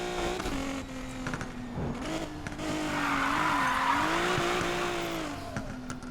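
Infiniti Q60s drift build sliding in Need for Speed Payback: an engine note rising and falling under a long, loud tire screech that swells in the middle, with no voices.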